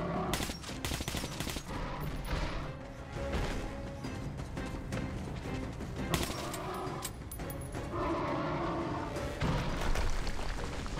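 Heavy gunfire in Metro: Last Light, repeated loud shots and bursts mixed with thuds and crashes throughout, steady and close.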